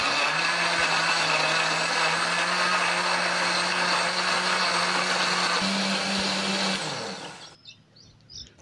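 A blender grinds chili paste with a little water loudly and steadily for about seven seconds, its motor pitch rising slightly near the end before it cuts off abruptly.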